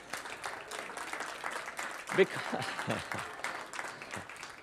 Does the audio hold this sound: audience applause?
yes